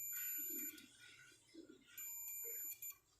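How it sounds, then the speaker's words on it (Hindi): A multimeter beeps in continuity mode while testing a bimetal switch from an LG double-door fridge, giving two sustained high-pitched electronic tones with a brief gap between them, fairly clear indoors. "ये देखिए, कंटिन्यूटी बता रहा है, और बीप की आवाज़ भी आ रही है,"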